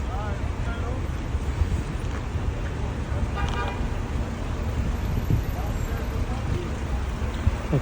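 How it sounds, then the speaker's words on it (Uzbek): Busy road traffic near a bus station in Mecca after prayers end, with a continuous roar of passing cars and a brief car horn toot in the middle, recorded outdoors amid wind. "Hozir namoz tamom bo'lganiga mashina ko'p."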